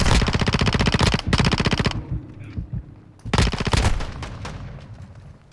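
Rapid automatic gunfire from an unmodified gun in Modern Warfare 2, loud and close in two sustained bursts separated by a quieter stretch of scattered distant shots and rumble, with no talking.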